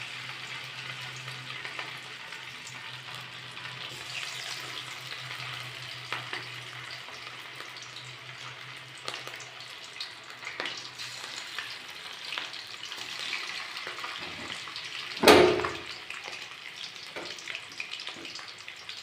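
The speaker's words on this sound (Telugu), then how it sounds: "ఇప్పుడు చికెన్ పకోడీ వేయించుకోవాలి." Chicken pakodi pieces frying in hot oil make a steady, even sizzle that runs throughout. Near the end comes one louder, sharp burst, likely a new piece dropping into the oil.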